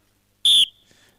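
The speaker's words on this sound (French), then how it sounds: "1 minute à partir de mon coup de sifflet" A single short, sharp referee whistle blast starting a one-minute timeout in a Caen versus Nantes match, loud and shrill, fading quickly into a brief ring.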